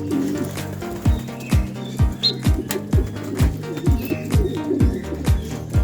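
Racing pigeons, cocks and hens together, coo steadily in their loft, a close, regular rhythm of low throaty calls with light chirps and faint wing flutters.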